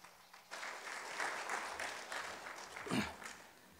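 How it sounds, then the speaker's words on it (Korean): A church congregation applauds to welcome the pastor, the clapping starting suddenly and holding at moderate loudness with a brief louder swell near the end. "우리 목사님 나오실 때 큰 박수로 환영하겠습니다."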